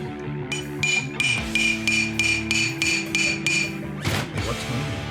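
Repeated metal hammer blows strike a Primo belt drive pulley during a rebuild, about a dozen sharp ringing hits in a steady rhythm, close and loud, with a scraping rub near the end.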